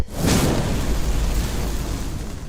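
A single deep, rumbling blast that peaks early and then rolls on as a noisy, fading roar for a couple of seconds.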